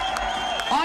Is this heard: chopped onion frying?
no